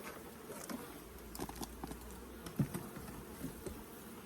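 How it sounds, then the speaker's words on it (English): Honey bees buzzing at an open hive while a queen excluder is removed during a queen cell harvest, a steady low hum with a few soft knocks and rustles close by. "notice the savage bees."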